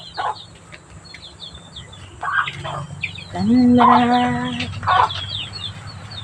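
Hens clucking close by, with a drawn-out squawk midway and high chirping birds in the background; no talking.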